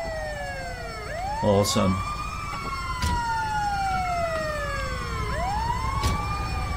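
A wailing ambulance siren in GTA 5 rises and falls over and over over an engine hum, with someone speaking briefly and a few sharp clicks.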